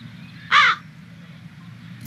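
A single crow gives one loud, harsh caw over a steady low background hum, with a sharp click right at the end.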